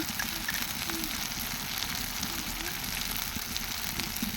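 Onion paste sizzles steadily in a hot pan for a prawn malai curry, a continuous close frying crackle with low rumbling bubbling underneath and no voices.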